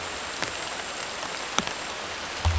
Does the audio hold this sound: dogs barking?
no